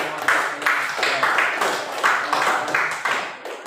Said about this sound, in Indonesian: kita beri tepuk tangan untuk kalian semua